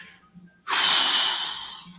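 A fox lets out a short, soft breathy huff, like a quick snort or sigh. It rises suddenly, holds for about a second and fades, close and alone.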